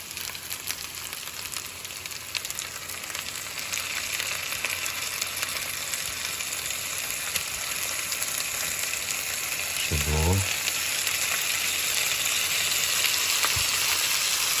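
Dumplings frying in a pan, a steady broad sizzle holding through the clip with a brief scrape or clatter midway, no talking.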